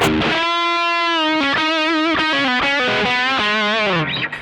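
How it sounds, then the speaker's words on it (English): Overdriven electric guitar through a Caline overdrive pedal, a held distorted note followed by a quick run of picked, bent lead notes, loud and up front with no talking. "Put the overdrive on."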